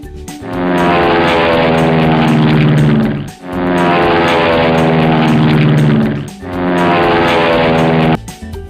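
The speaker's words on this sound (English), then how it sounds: "Here comes our aeroplane." A loud, steady propeller drone with strong harmonic buzz, swelling in three long passes with brief dips between them.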